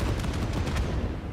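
Explosives detonating in the game Satisfactory, a rapid burst of several sharp booming blasts packed into about a second, loud and close, rumbling heavily and fading slightly at the end.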